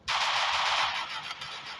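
Gunfire in the video game Free Fire Max, one sharp burst sustained for under two seconds, loud and close with no voice over it.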